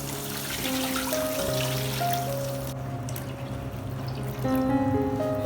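About 1.5 liters of water pours steadily into a pan of browned onions before 1.5 kg of rice is cooked, a continuous trickling wash under faint background tones with no talking.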